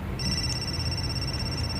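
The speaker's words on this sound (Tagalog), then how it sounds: "imurong cellphone ang nitingog, bro." A cellphone sounds a thin, steady high-pitched ring that holds unbroken over a low, rumbling background noise.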